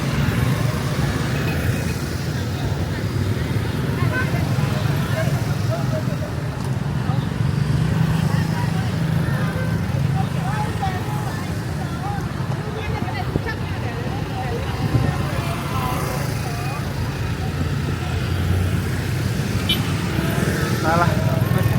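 Busy street traffic in Hanoi, thick with motorcycles, sends up a continuous engine rumble and road noise for over twenty seconds while people talk over it.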